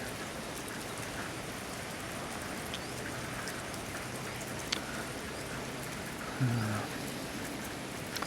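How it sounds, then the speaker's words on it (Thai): Morning rain falls steadily in Amphoe Somdet, a dense, even hiss of drops on surfaces filling the whole stretch, with a brief low bump near the end. "บรรยากาศเช้านี้ครับที่อำเภอสมเด็จนะครับ ฝนตกนะครับ ฝนตก"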